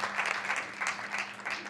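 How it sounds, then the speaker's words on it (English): A short burst of clapping at a town council meeting, fairly faint and distant, swelling in uneven waves for under two seconds. "I think that's a round of applause."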